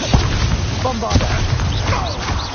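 A Bombarda blast spell in Hogwarts Legacy bursts amid a busy combat mix, one boom among dense spell noise and a shouted incantation.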